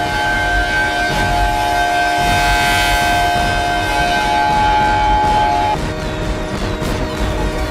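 A siren wails in steady, sustained tones over a dense, loud background din that carries a broad rumble and scattered clatter, continuous throughout.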